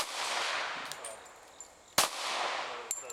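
A small handgun fires one sharp, loud shot at an outdoor range, cutting through a steady background hiss, followed by a fainter metallic clink moments later.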